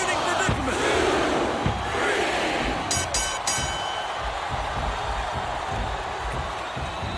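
A wrestling match crowd in WWE SmackDown vs Raw 2007 roars in a steady, loud wash of cheering, with a commentator's voice talking over it.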